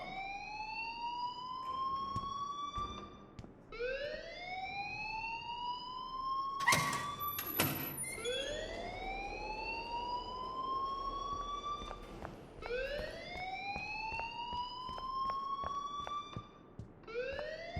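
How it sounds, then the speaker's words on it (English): Alarm in the video game Life Is Strange, a loud wailing siren that repeatedly sweeps upward in long rising whoops, cycling steadily with a brief sharp burst in the middle. "please turn off that alarm since that's your job"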